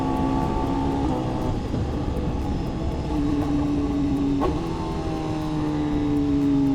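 A BMW S1000RR 1000cc sport motorcycle drones steadily while being ridden, its engine tone holding and then rising in pitch over constant wind rush.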